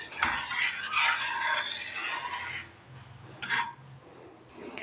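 A spoon scraping and stirring a thickening gummy jelly mixture in a pan: soft scraping, rubbing strokes near at hand, a continuous run followed by a brief second scrape after a pause.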